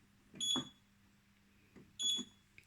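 A Nugelec fire alarm set off from a manual call point gives two short, fairly faint electronic beeping bursts about a second and a half apart in a quiet room.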